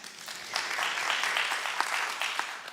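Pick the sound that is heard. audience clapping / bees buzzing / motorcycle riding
audience clapping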